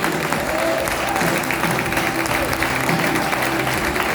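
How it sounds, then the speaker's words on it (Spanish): An audience in a church claps in dense, sustained applause, a steady crowd-wide patter that holds evenly throughout. "Si vos querés aplaudirle, aplaudile."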